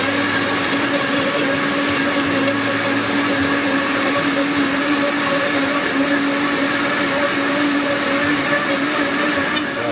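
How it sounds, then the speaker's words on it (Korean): A blender grinds sauce ingredients for tonkatsu sauce, running continuously at high speed, a loud steady whirring grind that holds level from start to finish. "믹서기에다가 지금 이 모든 재료들을 한 번에 다 넣고 곱게 먼저 믹서를 해주시면 돼요"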